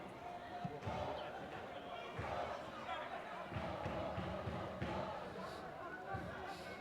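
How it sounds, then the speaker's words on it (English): Senegal fans cheer in a stadium during a Gambia versus Senegal football match, a crowd roar that swells and ebbs with bursts of louder shouting and rhythmic thumps, heard from a distance. "we are getting the ambience from the Sasebo fans here at the SKD, cheering the Senegal to victory on the opposite side of our commentary"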